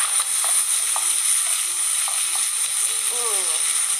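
Food sizzling steadily in a frying pan after being flipped, a continuous close hiss with light clinks of a utensil.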